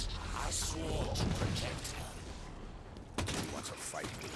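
Gunfire from a weapon in Halo 5: Guardians, repeated punchy shots amid ongoing game noise, fairly quiet overall with a sharper burst toward the end and a voice talking over it.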